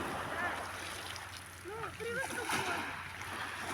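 Splashing in cold sea water on an early morning at the beach, a few soft splashes over wind and waves while people talk nearby.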